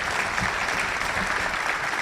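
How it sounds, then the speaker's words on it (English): Audience applause filling a room at a Rotary Club luncheon, steady dense clapping from a crowd throughout, fairly close and even in loudness. "Give them a round of applause"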